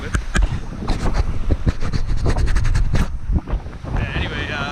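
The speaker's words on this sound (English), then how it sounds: "it's crazy windy out there right now" Strong wind buffets the microphone on a lake shore at Algonquin Park's Shirley Lake, with loud gusty rumble, splashing water and paddling noise, and brief voices underneath.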